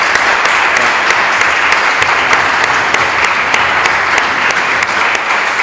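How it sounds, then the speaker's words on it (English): An audience at an international academic congress gives steady, loud applause, dense clapping sustained evenly throughout without a break. "Big applause for"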